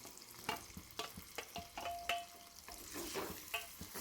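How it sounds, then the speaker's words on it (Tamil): Shallots, garlic, tomato and green chili sautéing in plenty of oil for a kuzhambu, giving a soft, quiet sizzle broken by intermittent spoon strokes and scrapes, with no one talking. "பூண்டு, தக்காளி, பச்சை மிளகாய் எல்லாம் நல்லா வதங்கி வரணுங்க"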